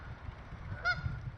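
A single short honk from a goose rings out at a dried-up beaver pond lake, somewhat distant and brief over quiet outdoor ambience.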